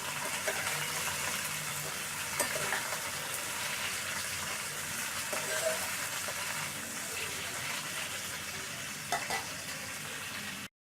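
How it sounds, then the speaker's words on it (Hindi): Okra (bhindi) frying in hot ghee, a steady, soft sizzle that runs evenly throughout with faint stirring scrapes and no talking. "घी गर्म हो चुका है, भिंडी शामिल करेंगे। बिस्मिल्लाहिर्रहमानिर्रहीम। और इसे फ्राई कर लेंगे।"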